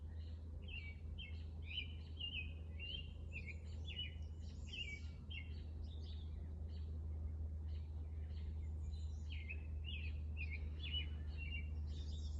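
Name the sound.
bird singing outdoors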